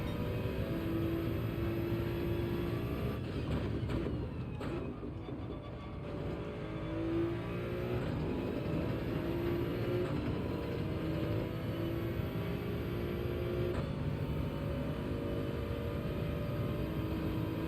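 A Toyota Supra GT3 race car engine in a racing video game drones loud and steady at high revs, with brief gear-shift dips and a constant whirring roar throughout.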